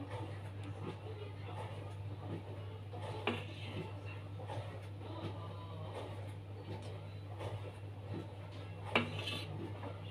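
A small ladle scrapes and clinks faintly against a pot and glasses while milk pudding is poured out. The taps are sparse and quiet over a low steady hum.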